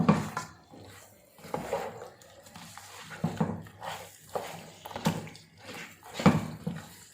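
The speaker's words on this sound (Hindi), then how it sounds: "अब इसको हम अच्छी तरह से मिक्स करेंगे।" Mutton stirred in plenty of hot oil in a cooking pot for deggi-style aloo mutton shorba, a spoon clinking and scraping against the metal in irregular close bursts, with no voices.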